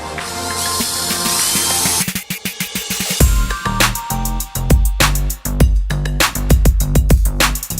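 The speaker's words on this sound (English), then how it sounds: "we finally got our holes drilled" A power drill bores holes in a motorcycle for a kickstand block install, first whining steadily and then stuttering in sharp bursts and clicks as the bit bites, loud and close.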